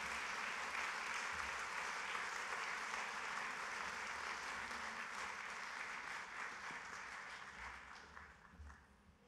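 Sustained, even applause from a conference audience at a library association keynote, a dense wash of many hands clapping that holds steady and then tapers off toward the end, with no clear talking.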